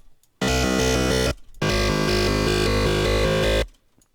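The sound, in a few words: time-stretched sample using speech algorithm, glitch rhythm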